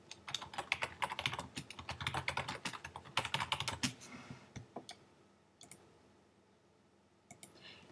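Fast typing on a computer keyboard enters text for a school iMovie trailer. A dense run of close, clicky keystrokes thins out into a few scattered taps near the end, with no talking.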